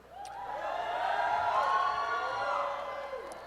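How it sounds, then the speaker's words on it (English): An audience at a Freedom Schools national training event cheers and applauds during a speech, a short swelling wave of voices and clapping in a large hall that rises and fades over a few seconds. "Whenever I mention a place, people cheer"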